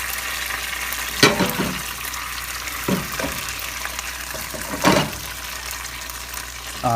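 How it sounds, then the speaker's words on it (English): Pats of butter hit a pan with balsamic vinaigrette over low heat and set off a steady, close sizzle, punctuated by a few sharp clacks and scrapes of a utensil. "Add a couple of pats of butter."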